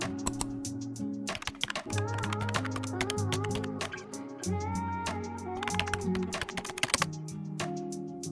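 Typing on a computer keyboard in steady bursts of clicks, heard over continuous background music.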